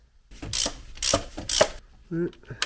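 Ratchet tightening the top alternator bolt on a VW Golf Cabriolet, three bursts of rapid clicking close up, followed by a short voiced sound.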